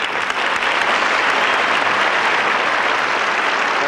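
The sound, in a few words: audience applause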